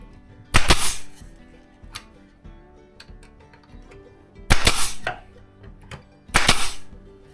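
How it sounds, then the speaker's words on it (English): Brad nail gun loaded with 3/4 inch brads fires three sharp, loud pneumatic snaps, spaced apart, with soft handling clicks and taps of woodwork between shots. "I have 3/4 inch brads in my gun here"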